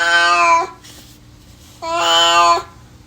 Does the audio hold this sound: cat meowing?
yes